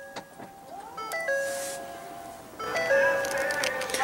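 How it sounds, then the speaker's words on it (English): Power tailgate of a Ford Explorer opening, a steady motor whine with tonal chimes and a rising hum lasting several seconds, with no talk. "Let's go ahead and pop the tailgate"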